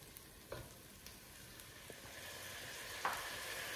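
Onion and garlic frying in a pan, with olives added: a steady low sizzle throughout, punctuated by a few soft clacks and stirring knocks, with a brighter splash of sizzle near the end.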